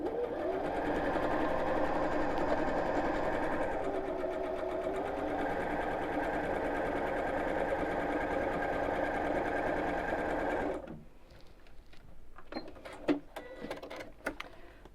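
A sewing machine stitches a quilt block seam in one steady, continuous run of rapid mechanical whirring for about eleven seconds, then stops, leaving light handling clicks and fabric rustles.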